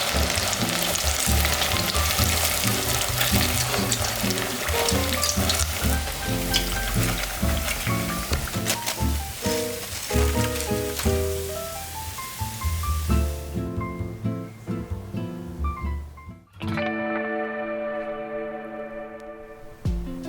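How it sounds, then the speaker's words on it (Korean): Chicken pieces for Korean dakgangjeong, given a second fry in oil at 190°C, crackle and sizzle loudly and steadily, with music playing underneath; the frying fades out near the end. "튀겨진 닭을 다시 넣고 1, 2분 더 튀겨주세요"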